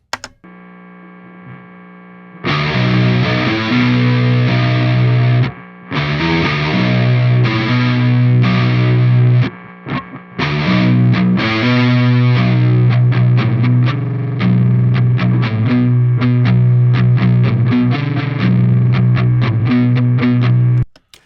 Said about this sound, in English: I have kind of this heavy down-tuned riff track that I recorded that has some pretty noisy amp noise